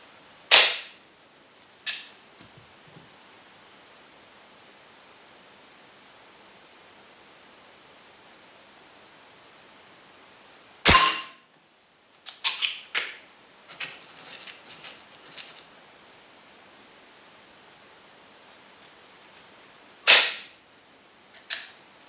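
Sharp, snappy shots from a Weihrauch HW40 air pistol fired singly with pauses between, some followed by faint clicks and rattles of handling, in a quiet room.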